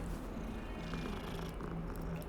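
Cat purring in the game Hogwarts Legacy: a steady, soft, rumbling purr runs continuously at low volume against a quiet ambient backdrop.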